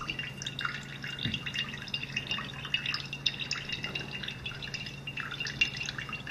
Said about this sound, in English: I'm letting the whey fall through my strainer